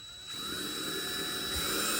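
A power drill spins up and bores a small pilot hole, a steady close whirring hum that starts abruptly and holds, slightly strengthening toward the end.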